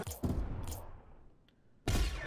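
A goal explosion effect from the video game Rocket League bursts loudly twice, a sharp blast with a crackling, fading tail between the hits.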